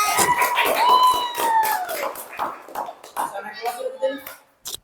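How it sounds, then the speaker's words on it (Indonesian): Schoolchildren in a classroom clap for classmates amid excited voices and cheering, a busy burst of claps and chatter that thins into scattered claps toward the end. "Ya, beri tepuk tangan."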